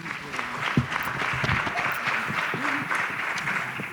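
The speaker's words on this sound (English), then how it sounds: "Let's give our board members a round of applause." Applause for advisory board members at a board meeting, a moderate round of clapping from a room crowd, sustained and even for several seconds with faint murmurs underneath.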